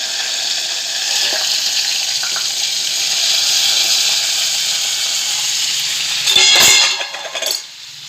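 Stuffed eggplant fritters frying in hot oil give a steady, close sizzle, and a louder burst of crackling and clatter comes near the end.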